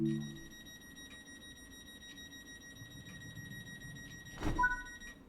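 A door-locking warning alarm in a Class 700 train in Train Sim World 3, steady high electronic tones sustained over a quiet cab hum, with a brief louder burst near the end.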